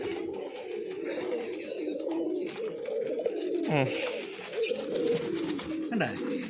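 Pigeons coo in a loft, steady overlapping low throaty calls that carry on throughout with a few louder bursts nearby and a busy background of other birds.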